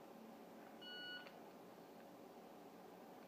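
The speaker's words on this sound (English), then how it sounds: "let go as soon as you hear the beep" A Victor Reader Stream gives a single short, clean electronic beep during a reset, faint against a quiet room hum.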